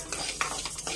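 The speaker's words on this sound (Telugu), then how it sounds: "ఇవి అయితే ద్వారగా వేయించుకుంటున్నాను" Whole spices dry-roasted in a pan for chicken pickle, giving soft scraping and stirring sounds with small clinks of a spoon against metal, a brief sharper scrape near the middle, close and fairly quiet with no talk.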